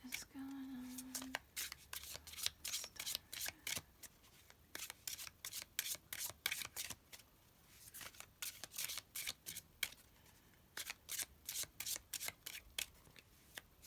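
Tarot cards being shuffled by hand, a long run of crisp riffling and sliding bursts in quick irregular rhythm, close and fairly loud, with a brief hum near the start.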